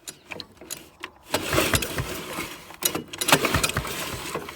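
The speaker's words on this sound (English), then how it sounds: "I'm gonna give it a yank here on the starter." A 1971 AMF Ski Daddler Mark IV snowmobile engine is yanked by its pull starter, giving several short coughing bursts and sputters in a close, loud sequence without catching into a steady run.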